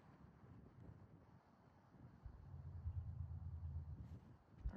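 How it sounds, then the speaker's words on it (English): Wind gusts across a mountain ridge in Kananaskis, low rumbling buffets against the microphone that swell louder midway and keep blustering. "The wind picked up a little tiny bit"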